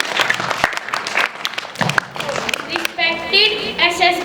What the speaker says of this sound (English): Clap for him loudly